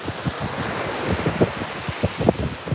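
Ocean waves wash onto a beach and recede over wet sand, a steady roar of surf with soft rolling breaks and wind noise, no voices.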